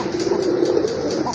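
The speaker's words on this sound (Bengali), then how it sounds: "এটা হচ্ছে আপনার ইন্ডিয়ান বোম্বাই কবুতর" Indian Bombay pigeons coo in a soft, continuous murmur close by, a low throaty warble running steadily without any talk.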